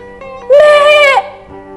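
A goat in a pen gives one loud, close, wavering bleat lasting about a second over a quiet background.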